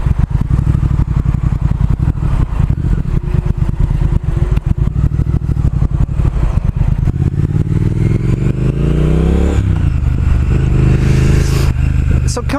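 A 2019 Triumph Speed Twin motorcycle ridden on the road in road mode, its engine droning loudly and steadily, with pitch rising and falling through gear changes and a throttle swell near the end, plus wind rush and no talk.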